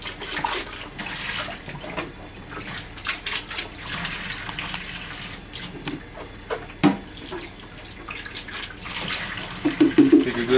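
Tap water runs continuously over juicer parts being rinsed in a sink, a close splashing stream with shifting gurgles and knocks as the pieces move under the flow.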